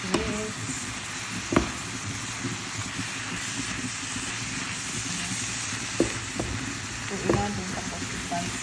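Spring roll filling of vegetables and pork, seasoned with salt, frying and being mixed in a pan: a steady sizzle runs throughout with occasional clinks and scrapes of the utensil, and a voice speaks faintly now and then.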